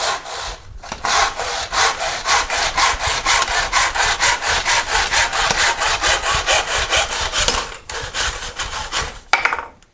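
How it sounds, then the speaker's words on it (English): A Nobex Champion hand miter saw cuts a wooden baseboard at 45 degrees, its blade rasping in fast, even back-and-forth strokes close up, with a brief pause near the end and a final knock. "I can just put my stock straight against this back fence, cut all the way straight up and down, and I'm going to get my inside corner"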